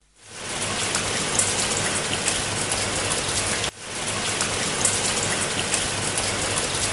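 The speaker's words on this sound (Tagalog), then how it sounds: "biglang bumuhos ang malakas na ulan" Heavy rain pours down on a dark night, a dense, loud, steady hiss that swells in within a second and continues with only a momentary dip midway, no voices over it.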